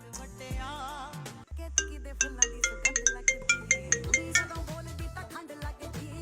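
Phone ringtone plays on a call: a melodic tune followed by a run of bright, repeating chimes, moderately loud and fairly close, with no speech over it.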